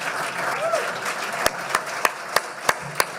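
Applause from a presidential debate audience, a scattered burst of claps at first that settles into several loud, evenly spaced claps, with no talking.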